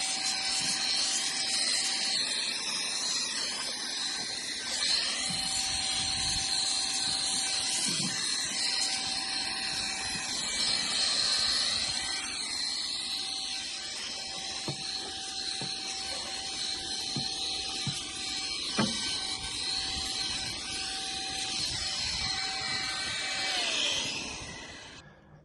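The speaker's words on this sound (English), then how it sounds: "Go ahead and turn it on. Turn it up to 3 and blow that stuff away." Vogma wireless three-speed compressed air blower set to speed 3, blowing debris out from under a car hood; a steady high-pitched whine with airy hiss and occasional rattles of loose bits, running continuously close by before cutting off at the end.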